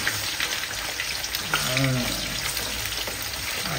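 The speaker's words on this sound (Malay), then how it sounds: "Kita tumis bawang kita dahulu." Onions sautéing in hot oil for a fish head curry, a close, steady frying sizzle with a brief voice-like murmur partway through.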